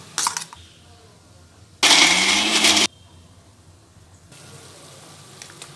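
A mixer grinder whirs loudly for about a second, grinding roasted masala with whole turmeric, set among quieter kitchen clatter and clinks before and after.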